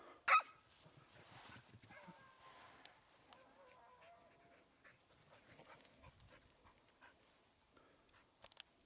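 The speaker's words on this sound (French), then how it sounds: "les chiens sont pris en grillage à mouton" Dogs caught in sheep fencing in a field give a few short, scattered barks and pants at a moderate distance, with a sharper yelp near the start and light rustling between.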